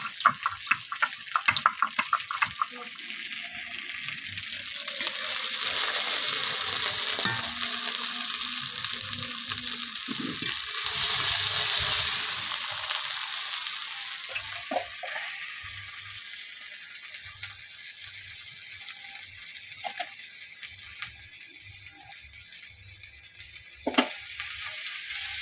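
Cumin, chopped onion and chili and coriander pastes frying in a pan, with a loud, dense sizzle that swells in the middle and settles lower, plus occasional scrapes and taps of stirring.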